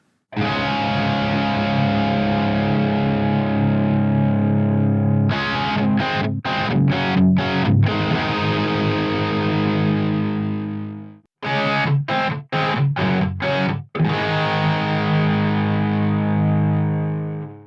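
Sustained distorted electric guitar chords through a Nembrini Audio 8180 metal amp ring out with a spacious reverb tail, interrupted twice by quick rhythmic choppy stabs before the wash returns.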